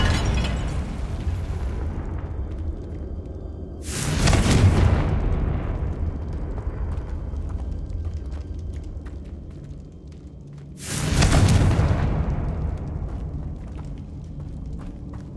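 Two deep fire-spell blasts in the Hogwarts Legacy video game, each a heavy boom with a brief crackling tail, spaced several seconds apart over a low rumbling ambience.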